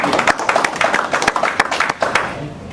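Scattered audience clapping at a US Coast Guard community meeting, a small group of hands striking in loose, uneven rhythm, close and fairly loud.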